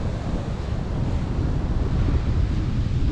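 Ocean surf and wind at the Hutt River mouth, a steady, loud broadband wash of waves with gusting wind buffeting the microphone throughout, no voices.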